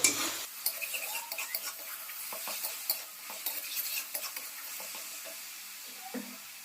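Desi-style chicken curry masala sizzles in hot oil in a pot, with a spoon scraping and stirring in repeated quick strokes over a steady frying hiss, close by and with no talking.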